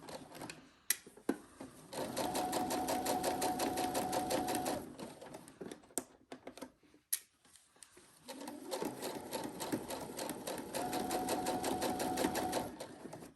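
Sewing machine stitching a pillowcase seam, running in two long steady bursts of rapid rhythmic clatter separated by a short pause with small clicks, close and fairly quiet.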